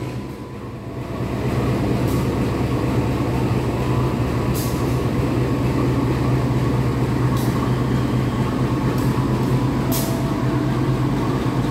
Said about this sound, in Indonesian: Sepertinya bakal ada kereta dari arah sebaliknya nih.